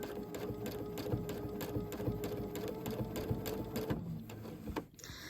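A sewing machine set up for free motion quilting stitches slowly, its needle making a steady rapid mechanical chatter close by for about four seconds before it slows and stops, with no talk.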